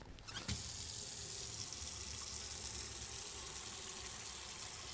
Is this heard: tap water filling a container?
yes